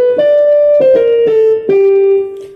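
Sustained Yamaha electronic keyboard notes play one after another, each tone held and stepping lower in a slow descending line, clear and close.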